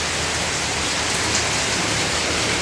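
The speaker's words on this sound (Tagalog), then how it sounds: "tingnan yung ulan, yung buhos ng ulan, lakas." Heavy rain pouring down in Daet amid wind, a dense, steady, loud hiss of downpour that fills the whole stretch without a break and with no voices.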